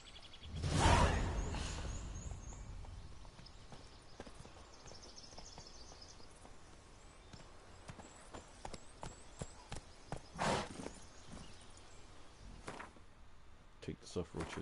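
Roach, a horse in the video game Witcher 3, clip-clopping along with steady hoof steps beneath a loud burst of noise near the start and another around ten seconds in.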